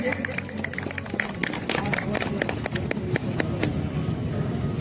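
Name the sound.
audience applause welcoming guests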